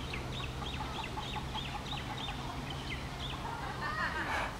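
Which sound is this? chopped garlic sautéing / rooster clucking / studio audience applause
rooster clucking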